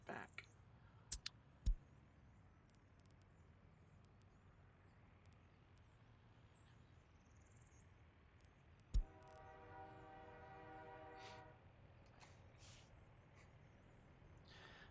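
Trains in the simulation game Workers & Resources rumble steadily through a low mechanical drone, with a few sharp clanks early on and a sustained horn-like tone coming in near the end, fairly faint overall.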